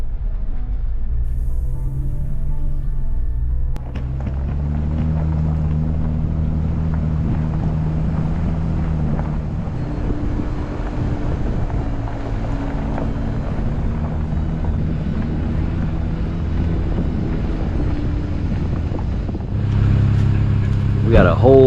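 Off-road vehicles rolling out together on Hightower Church Road in the North Georgia mountains, a loud low engine rumble that builds after a few seconds and holds steady with wind buffeting the microphone, rising again near the end.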